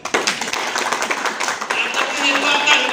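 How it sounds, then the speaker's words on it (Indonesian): A crowd claps briefly at the opening of a cooperative branch in East Semarang, a scattered, uneven patter of hands with voices mixed in. "Tepuk tangan."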